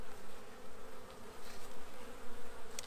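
A dense, continuous buzzing of many honeybees close by around an open hive, a steady hum with no voices.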